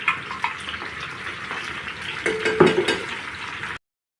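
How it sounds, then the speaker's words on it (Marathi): Ground masala stirred into capsicum frying in a pan: a close, steady sizzle and crackle that swells loudest near the end with scraping stirring, then cuts off abruptly. "आता वाटलेला मसाला ह्याच्यात घालते।"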